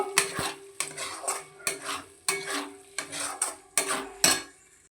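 A spatula stirs and scrapes a spice paste of mustard, sour yogurt, chili and cashew in a pan for prawn malai curry. About nine close, rhythmic strokes clatter against the metal, with no talking.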